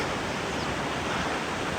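A waterfall on the Annapurna Base Camp trek roars as a steady, dense rush of water, loud and continuous across the short stretch, with no voices.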